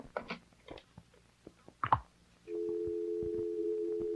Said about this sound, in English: It's just a dial tone.